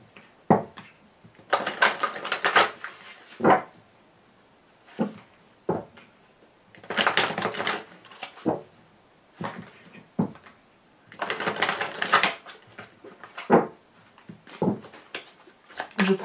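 Lenormand fortune-telling cards being shuffled and handled at a table, producing bursts of papery riffling and soft slaps that alternate with short taps and quiet pauses, close and fairly loud.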